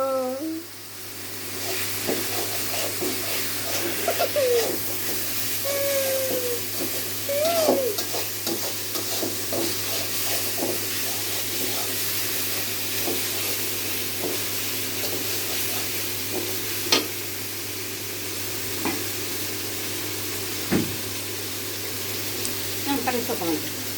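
Fish curry with garlic fries in a pan, a constant low sizzle broken by light scrapes and taps of a spoon over about twenty seconds, with a steady faint hum underneath.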